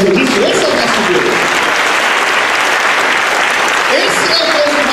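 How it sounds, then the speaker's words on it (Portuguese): Congregation applauding in a church, a loud, dense burst of clapping from many hands that holds steady throughout, with voices and cheers rising over it at moments. "Você pode dar um aplauso ao Senhor por causa disso?"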